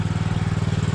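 A repaired small engine runs steadily up close, a loud, rhythmic low chugging pulse like a lawn mower or motorcycle idling, with no talk over it.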